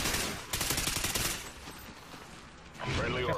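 Rapid automatic gunfire in the video game Call of Duty Ghosts, loud dense bursts of shots that drop away midway, then a fresh sharp burst at the end, with a voice speaking at times.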